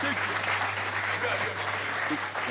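A French television studio audience applauds loudly and steadily through the whole moment, with voices mixed into the dense clapping and a low electrical hum beneath.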